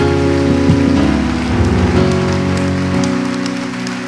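A church congregation applauding and cheering during a sermon, a dense steady wash of clapping with sustained organ or keyboard tones underneath, loud and continuous.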